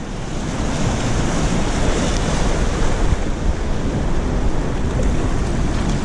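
Sea waves surge and break continuously on the shore at Sandsend beach, a loud, steady wash of surf mixed with wind buffeting the microphone.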